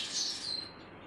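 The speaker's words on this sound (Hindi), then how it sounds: "चहचहाट हो रही है।" Sparrows chirping at dawn, a dense, steady chorus of high bright tweets close by that thins out and fades toward the end, with no voices.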